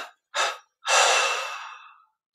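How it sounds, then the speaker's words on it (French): Breath during guided meditation: a short sharp intake followed by a long, deep exhalation that tails off slowly, close and alone in silence. "Une expiration trois fois."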